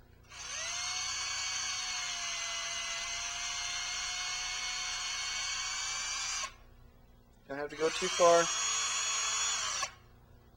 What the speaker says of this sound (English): Okay, I'm going to take and drill a hole right where that connected.